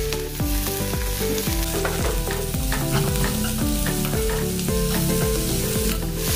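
Finely chopped spinach sizzles in a pan under constant frying noise, with rhythmic stirring clinks repeating throughout, close and loud, no one speaking.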